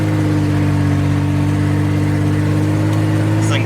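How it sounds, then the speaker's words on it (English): A Ford Bronco II's steady, loud engine drones at an even pitch from inside the cab, a constant low hum with road noise throughout. "we are on the road in the Bronco"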